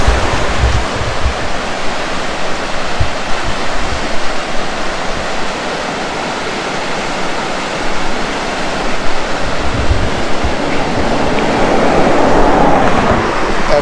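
Strong tidal current rushing through a channel near Point Samson, Western Australia, a loud continuous roar of churning water with no break, close by and steady.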